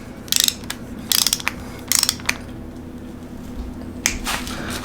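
Torque wrench ratcheting as camshaft bolts are tightened to 105 inch-pounds during a Crower Stage 1 camshaft install on a Neon SRT-4 engine: close, crisp clicking in several short bursts with quiet gaps between them.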